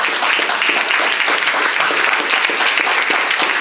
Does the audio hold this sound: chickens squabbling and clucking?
no